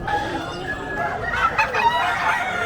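A fighting cock at the Malolos pet market crows and clucks close by amid general market background noise, a short raspy call rising and falling over a couple of seconds.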